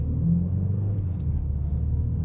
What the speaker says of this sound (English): there is some artificial sound being pumped in through the speakers